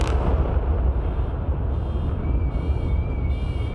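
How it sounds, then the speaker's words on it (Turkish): Dynamite blasts demolish the four chimneys of a thermal power plant. The result is a loud, sustained, broadband rumble of collapse with a deep low end, heard from a distance and continuing steadily throughout. "Dinamitlerin patlamasıyla dört bacağı saniyeler içinde yerle bir oldu"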